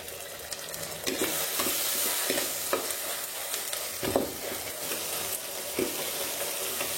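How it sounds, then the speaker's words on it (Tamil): Onions and tomatoes sautéing in a pan for a curry, a steady soft sizzle broken by several scraping knocks of a spoon stirring, close and moderately quiet, with no talking. "இது அப்படியே நல்லா வதங்கட்டும்."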